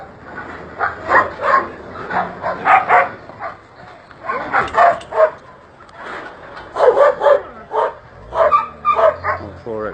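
Several dogs bark and yip in bursts across full exercise yards at a street dog rescue in Rudozem, with irregular clustered barking and some whimpering at moderate distance.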